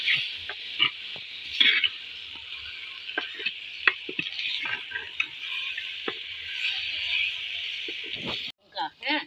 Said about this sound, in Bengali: চিকেন দেওয়া হয়ে গেল হাঁড়িতে।